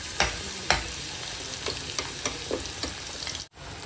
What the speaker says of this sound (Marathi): यात आपण जो मिरची, लसण आणि आलाचा जो पेस्ट केलेला होता तो घालूया.